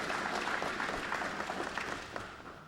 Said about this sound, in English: let's give them a round of applause to welcome them here